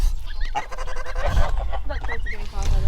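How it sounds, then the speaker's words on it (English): Nasal, raspy honks from a few geese come in quick bursts, close by, mixed with rustling and low background noise. "They're very timid geese too."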